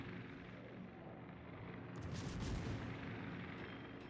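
Warship main guns fire in World of Warships, naval combat with a battleship and carrier nearby. A steady low engine and sea rumble runs throughout, then a heavier booming burst lands around the middle, loud and close, and fades back into the drone.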